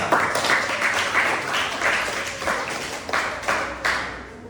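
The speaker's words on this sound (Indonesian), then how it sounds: "Mari kita beri aplaus untuk kelompok 2" Applause from a classroom audience for a student group, steady dense clapping from many hands with a few swelling pulses, fairly close and continuous for several seconds, no speech.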